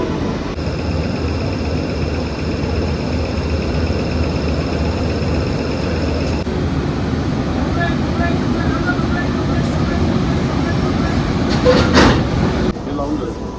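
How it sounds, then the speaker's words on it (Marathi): A locomotive rumbles steadily while reversing and coupling to an LHB passenger train, with hissing air and a clank of metal cars, a bright whistle-like tone near the end. "Locomotive is ready for reversing."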